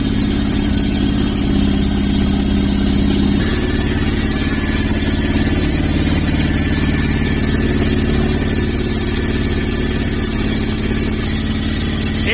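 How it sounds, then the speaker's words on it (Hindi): A Bajaj Pulsar 150 motorcycle engine runs steadily at a fast idle during throttle body cleaning, a loud, even drone lasting the whole stretch with a slight change in tone partway through, and no talking. "इंजन को स्टार्ट रखना है।"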